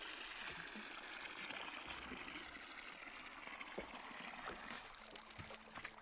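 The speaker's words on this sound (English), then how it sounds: "Pick it up and pour the water in there." Water from a watering can pours steadily onto tea plants in the Wanderstop video game, a faint continuous trickling stream.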